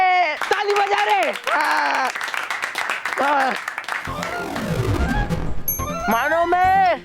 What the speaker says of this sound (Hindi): ये ताली बजा रहे।